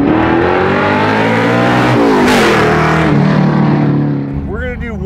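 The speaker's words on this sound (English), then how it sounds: "Wow, you're spinning tires, aren't you? Yeah, they're spinning." A 750-horsepower big-block Mercury Cougar muscle car revs hard with its tires spinning, a loud, sustained engine roar that rises in pitch and then eases off near the end, close by.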